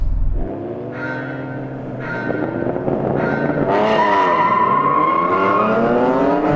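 Toyota Supra and Honda NSX drag race cars launching: loud engines rev and climb through gears with tire squeal, the sound sustained and close, with no talk.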